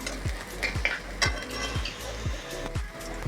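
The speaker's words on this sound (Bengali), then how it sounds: "এবার পেঁয়াজ আর টমেটোগুলো তেলে ছেড়ে দেব।" Onions and tomatoes fry in oil with whole cumin, cardamom, cinnamon, cloves and bay leaf, giving a soft sizzle under repeated scraping stirs against the pan.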